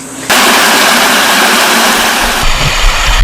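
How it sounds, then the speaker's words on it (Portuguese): Sewage water pours steadily into a river, a loud continuous broadband rush of falling water that starts abruptly and holds, with a low rumble joining near the end. "O esgoto cai dentro do rio."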